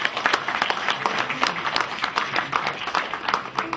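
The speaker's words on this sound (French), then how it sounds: "On peut les applaudir également." An audience applauds a couple celebrating their golden wedding anniversary, steady dense clapping from a full room, loud and continuous with no voices over it.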